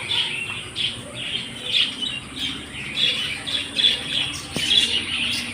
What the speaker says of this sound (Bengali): ফার্স্টেই দেখিয়ে দিই আমাদের এই পাখিদের খাঁচা।